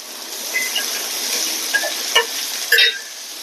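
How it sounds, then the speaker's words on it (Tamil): Coriander and mint leaves sautéing in a pan, a continuous close sizzle with a few light scrapes and clinks of a stirring utensil against the metal. "கொத்தமல்லி, புதினா ரெண்டுத்தையும் போட்டுடலாம். போட்டுட்டு வதக்கலாம்."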